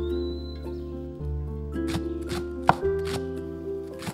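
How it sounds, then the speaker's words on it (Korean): A knife mincing green onion and garlic on a board gives a handful of crisp, uneven chops that grow busier toward the end, sitting over sustained background music with no speech. "대파와 마늘을 잘게 다지듯 썰어줄게요."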